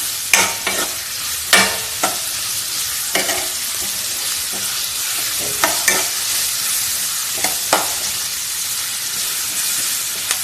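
Onions frying in a pan for a chicken dish, a steady loud sizzle and hiss with a dozen or so sharp scraping strokes of a spoon stirring at irregular intervals.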